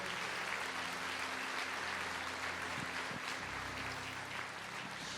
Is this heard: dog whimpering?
no